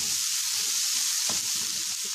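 Mushrooms fry in a pan of paneer sandwich filling, giving a steady, close, hissing sizzle with a soft stirring scrape partway through and no voices.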